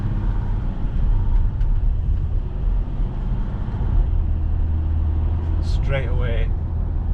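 Steady, loud low rumble of road and engine noise inside an empty VW Amarok pickup with its anti-roll bars removed, driven over a bumpy road surface. The drone continues throughout, with a brief voice-like tonal burst near the end.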